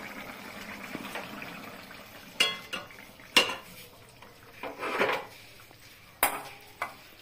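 A pot of bitter gourd curry (karela jhol) comes off the stove with a few sharp metallic clanks and scrapes of cookware spaced a second or so apart over a low kitchen background.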